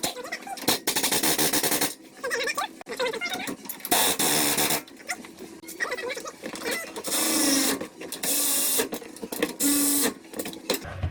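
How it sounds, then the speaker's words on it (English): Whirring bursts of an electric ratchet running down a nut on a KONI front shock on a Hemi Ram 1500, several whining runs of a few seconds each with brief stops and clicks between, loud and close, no speech. "This is an electric ratchet, so I can run it in"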